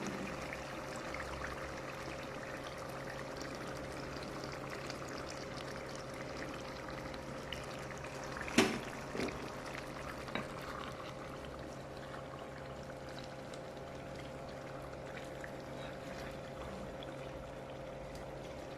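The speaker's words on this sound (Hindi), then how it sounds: "इसमें अभी मैं जो आखिरी मरला है क्रीम का वो डालने लगी हूँ।" Cream goes into a pan of creamy chicken tikka that is nearly done and simmering. A soft, steady bubbling hiss runs throughout, quiet and continuous, with a couple of small clinks midway and no talking.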